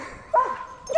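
An excited dog, ready for a canicross run, lets out two short, rising whining barks about half a second apart, close and fairly loud, with no talking.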